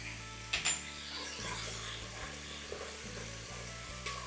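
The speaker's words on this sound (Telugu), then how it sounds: "ఇప్పుడు పన్నీర్ ఫ్రై అవుతూ ఉంటుంది" Paneer and salted onions with green chilli frying in a pan, a soft steady sizzle with a few scraping stirs, under a faint low steady hum.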